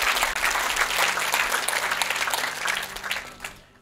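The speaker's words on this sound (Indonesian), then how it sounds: "Tepuk tangan boleh." A congregation at a church service breaks into loud, sustained applause that fills the room evenly for several seconds before tapering off at the end.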